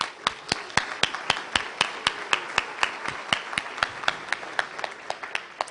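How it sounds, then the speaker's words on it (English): Steady, evenly spaced hand claps ring out at a conference forum on children's nutrition, each sharp clap clear and distinct at a brisk, regular pace with no voices over them. "I say thank you and give you a round of applause, please."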